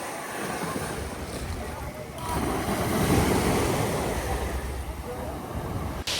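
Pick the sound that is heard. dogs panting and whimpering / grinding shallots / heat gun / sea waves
sea waves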